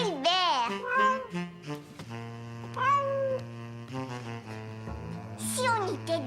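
A voice imitates a cat, giving drawn-out, rising and falling meows over a steady musical tone in a French-language children's cartoon, with other speech woven between the calls.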